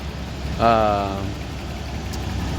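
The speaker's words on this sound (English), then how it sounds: "On these older ones, you can hear the valve train pretty well." A 1991 Toyota Land Cruiser engine at steady idle with a fine mechanical ticking texture from the valve train, a short mid-pitched whine rising briefly over the low hum.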